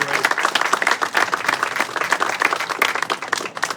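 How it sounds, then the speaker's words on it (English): An audience at a brick ceremony claps for a group of long-serving employees, a dense, loud, continuous applause that fills the full span. "If we could give that entire group a round of applause"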